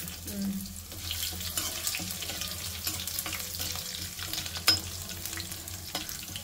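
Crushed garlic and dried red chillies fry in a glass of oil in a pan, a steady close sizzle and crackle running throughout with a few sharp clatters, no talking.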